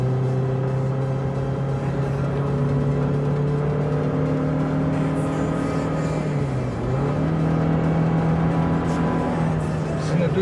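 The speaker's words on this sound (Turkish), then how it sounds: "İşte isterseniz biraz motor sesi dinleyelim." A Daihatsu Terios 1.5 litre, 105 horsepower petrol engine drones loudly from inside the cabin, a steady hum that dips briefly and then rises again as the engine shifts speed.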